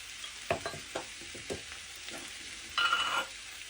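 Potatoes being stirred in a pan of hot oil and butter for spicy devilled potatoes: a few soft scraping stirs and light clinks over a low sizzle, with a brighter burst of frying near the end.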